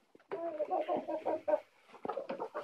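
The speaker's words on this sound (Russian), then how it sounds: "Вот у меня здесь где-то 35 кур. Здесь у меня Хайсекс Уайт." Hisex White laying hens, around 35 of them, cluck close by in a winter coop in bursts of short rhythmic calls, with a brief pause partway through.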